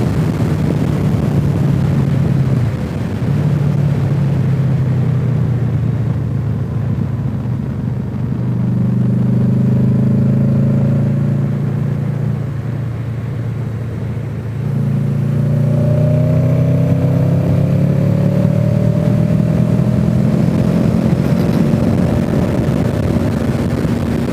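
A Honda VFR800 rides on Michelin Pilot Road 5 tyres, kept below 7,000 rpm: a steady, close engine drone with wind rush, its pitch rising and falling through gear changes, alone with no voices.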